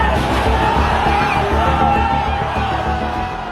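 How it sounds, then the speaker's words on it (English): A crowd of demonstrators breaking past a police cordon roars and shouts as it surges toward Parliament, a loud continuous mass of yells and whoops that eases slightly at the end. "And the crowd surges towards Parliament."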